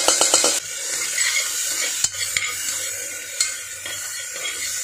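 Onion and tomato fry in a pan with curry leaves: a spoon clatters a few quick times, then a steady sizzle carries on with occasional knocks of the utensil against the pan, close up and without speech.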